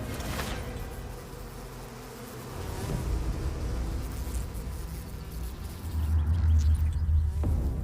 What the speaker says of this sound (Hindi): इस तरह और भी ज्यादा मधुमक्खियां हमले के लिए निकल पड़ती हैं।